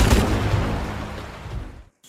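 Dense gunfire and explosions from the Rambo video game, a loud, continuous barrage of rapid shots and booms that cuts off abruptly near the end.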